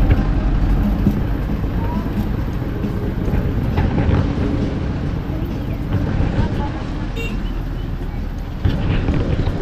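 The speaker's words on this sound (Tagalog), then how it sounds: "Traffic." Road traffic rumbles steadily at a crossing, with engines, passing vehicles and some wind buffeting on the microphone forming a loud, continuous low roar throughout.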